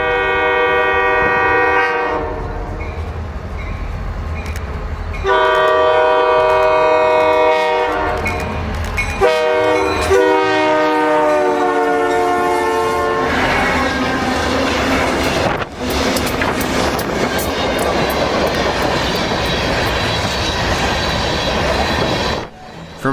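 A Genesee and Wyoming freight train passes near Leicester, New York, sounding loud, long horn blasts in several bursts over the heavy rumble of wheels and railcars, with brief wheel squeal as it rolls by.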